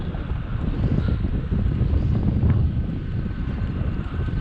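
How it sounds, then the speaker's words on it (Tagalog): Steady low, broadband wind rumble buffets the microphone while riding into a headwind on a motorbike with a carburetor, continuous and loud throughout with no speech. "Medyo ano lang, medyo may hangin, headwind."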